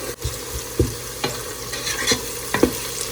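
Sliced onions frying in a pan for a turnip salan, a soft steady sizzle broken by several scraping stirs of a spoon, close and fairly quiet with no talking.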